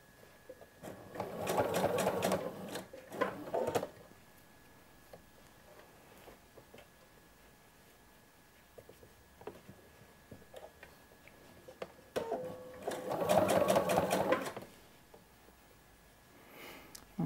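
A sewing machine stitches a sherpa vest along an ironed fold, running in two bursts of roughly two seconds each with a quiet pause between, close and clear with no talk.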